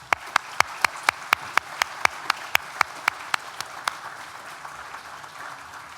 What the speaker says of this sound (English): please join me in a round of applause for all those people sitting below you who've helped you on that journey